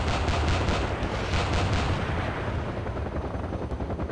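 Rapid, loud gunfire from a favourite cannon in the video game Battlefield 2 during helicopter combat: dense bursts of shots that run together into a sustained barrage, with no talking.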